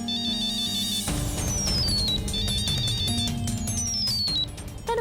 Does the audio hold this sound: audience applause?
no